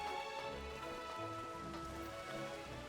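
Steady rainfall in Final Fantasy XIV patters continuously at a low level, mixed under in-game music with sustained tonal notes, with no talking over it.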